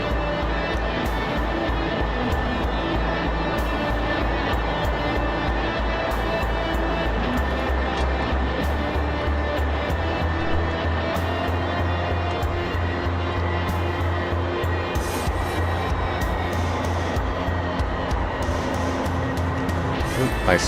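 A video game aircraft engine idling and running up for a warm-up flight, a continuous low droning hum with steady tonal whine, close and unbroken for the whole stretch.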